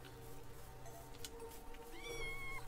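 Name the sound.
cat meowing in the video game Minecraft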